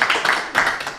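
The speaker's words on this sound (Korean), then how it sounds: "박수 한번 쳐주셔도 됩니다." Short burst of audience applause at a humanities week closing ceremony with an author panel, close, dense hand clapping lasting about a second.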